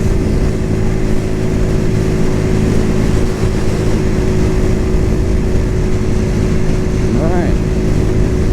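A Cougar Vitacci XMT 250 motorcycle cruises on the road with a loud, steady engine drone and heavy wind rush, and a voice talks over it.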